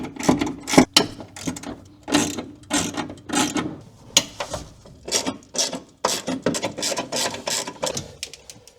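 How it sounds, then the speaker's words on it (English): Ratchet wrench loosening the bolts that hold a car airbag module in a DC2 Integra Type R, heard as repeated bursts of quick clicking with short pauses between them, close up and without any talk. "So the airbag module is held on by some bolts that I have to remove first."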